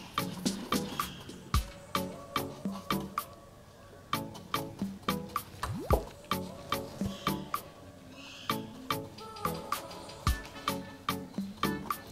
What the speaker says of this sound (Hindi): और उसमें पानी मिलाना है।